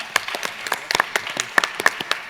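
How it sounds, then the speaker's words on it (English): A thin scattering of separate hand claps from a small audience at a student debate, honouring both teams in brief, uneven bursts over about two seconds. "if everyone would please give a round of applause to both teams"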